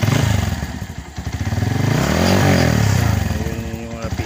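Motorstar Cafe 150 V2 motorcycle engine idling with a steady close putter, then revving up and settling back down, the pitch rising and falling, while someone talks over it.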